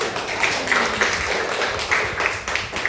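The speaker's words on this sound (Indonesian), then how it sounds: "terima kasih, tepuk tangan." Children in a classroom clap together for a few seconds, a dense patter of overlapping claps with a few brighter accents and faint young voices mixed in.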